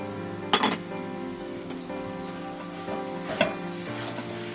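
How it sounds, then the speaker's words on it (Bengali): Banana flower with grated coconut sautéing in a pan, a steady low sizzle with a few sharp clinks or stirring knocks near the start and again toward the end, no talking. "এটা দিয়ে একটুখানি এবার কষিয়ে নেব"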